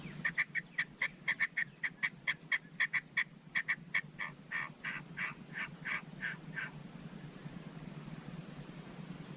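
A person imitates a duck with the mouth, a long run of rapid, evenly spaced quacking calls that gradually slow and soften before stopping, heard alone over a steady low background hum.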